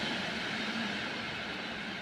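A train at a Warsaw railway station produces a steady, continuous low rumble and hiss, fairly faint and unbroken, with no voices.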